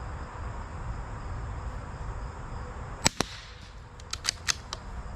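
CCI Standard Velocity .22LR rounds are fired in a quiet outdoor setting: a pair of sharp, short cracks, then a quick cluster of about five more reports, each faint-to-moderate and clipped, over soft background hiss.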